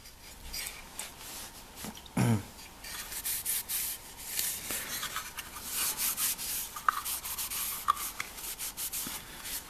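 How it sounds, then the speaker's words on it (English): A rag rubs oil into a Queensland walnut timber pen case in steady, close scrubbing strokes, with soft rasping swishes and a few sharper taps and knocks scattered throughout, and no voices. "you just wipe it all down, making sure that you've got lots of oil in there"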